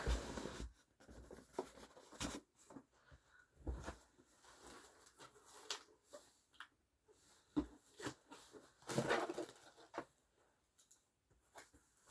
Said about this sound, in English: Okay, more packaging. Let's get rid of all that.